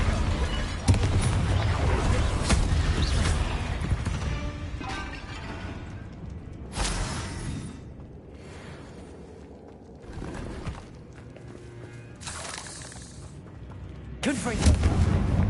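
Spell blasts and magical combat effects from Hogwarts Legacy, including a Repulsor force push, land as repeated booming, crackling bursts over a dense continuous battle din, with voices shouting spell names throughout.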